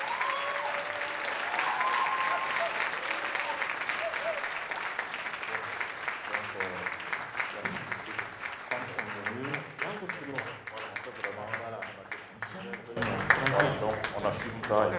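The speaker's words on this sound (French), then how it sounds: "On applaudit très fort" Loud, sustained applause from an audience welcoming Moussa Petit Sergent onstage for his show The Way of My Life, dense clapping filling the whole stretch with voices mixed in and a louder burst near the end.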